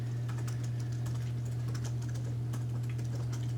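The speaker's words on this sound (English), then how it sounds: "I know I'm kind of typing a little fast right now" Fast typing on a computer keyboard while coding a Node.js and React web app, a dense run of quick clicky keystrokes over a steady low electrical hum, close and moderately quiet with no talking.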